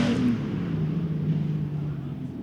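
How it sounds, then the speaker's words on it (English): A race car engine at RPM Speedway, throttled hard on track during a dirt-track feature race, makes a steady, loud droning roar with a sustained low hum throughout. "You can hear one of them out there working that throttle real hard"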